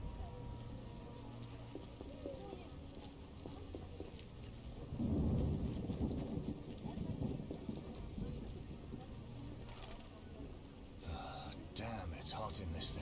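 Steady rain falls in The Witcher while a low rumble of thunder swells near the middle, and a voice talks over the storm.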